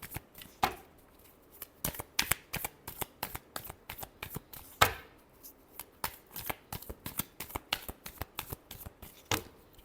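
Tarot cards being shuffled by hand in quick, crisp riffles and snaps, close and fairly quiet, in an irregular rhythm of short bursts with no talking.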